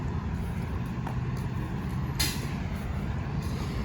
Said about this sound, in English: It's a Fairfax Connector bus.